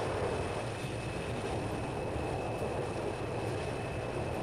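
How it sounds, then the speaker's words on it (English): A Concorde's jet engines in Transport Fever roar steadily as they power up, a broad constant rushing drone with a faint high whine, no talking. "Powers up the engines."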